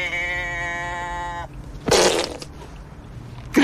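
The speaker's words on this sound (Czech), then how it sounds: "Kráva, která prdí." A cow lets out a sustained tonal call, then after a short pause a loud, raspy fart bursts out, followed by a second brief one at the end, all close and without talk.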